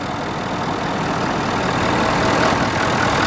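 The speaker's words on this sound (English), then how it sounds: "I love these new diesel engines that Ford started putting in these things." A 6.7 diesel engine in a 2012 Ford F350 idles with a steady, rough low rumble close by, unbroken and fairly loud, with no voices over it.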